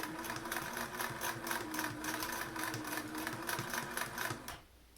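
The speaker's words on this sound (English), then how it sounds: "don't be afraid to hand roll your machine" A home sewing machine stitches a fabric face mask with elastic, its steady rapid needle chatter running close and clear before stopping abruptly near the end.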